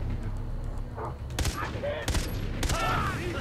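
Rapid gunfire in the shooter game Far Cry 3, with bursts of sharp shots over steady game background noise and a voice partly heard alongside.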